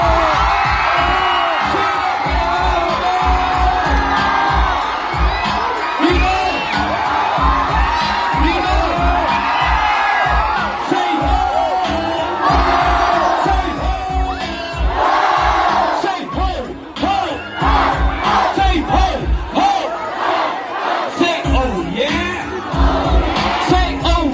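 A large crowd in Naga City shouts and cheers loudly and continuously, with whoops and yells overlapping in a dense, steady roar.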